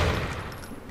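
A Thompson submachine gun in modded Grand Theft Auto IV fires a rapid, continuous burst of close, loud shots that blur into one dense roar.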